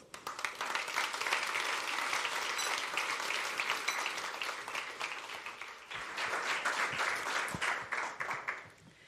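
An audience at the Bled Strategic Forum tourism panel applauds as the Director of the Slovenian Tourist Board walks on stage, a dense, sustained clapping close by that holds steady for about nine seconds with a brief dip near the middle.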